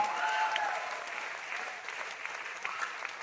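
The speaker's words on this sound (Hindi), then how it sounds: "एक बार जोरदार ताली उनके लिए" Loud applause from an audience at a DXN gathering, dense overlapping claps that start strongest and then settle into a steadier, slightly fainter patter, heard from some distance.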